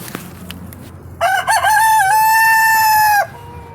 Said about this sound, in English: Well, cock-a-doodle-doo to you.